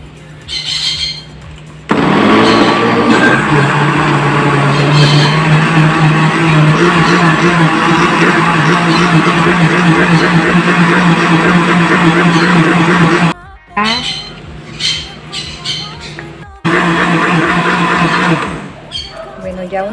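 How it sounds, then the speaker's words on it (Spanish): A blender whirs loudly and steadily, blending the ingredients for a cheesy bread pudding. It stops briefly twice near the end and then restarts. "Ahora lo vamos a licuar."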